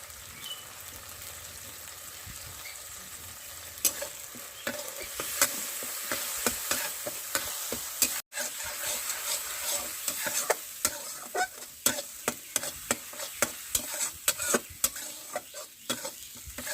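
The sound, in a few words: tomato with cumin and turmeric powder frying in a pan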